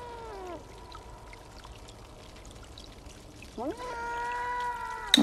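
A cat in a cute video game gives two drawn-out, whining meows several seconds apart over a faint trickling background, the second louder and closer.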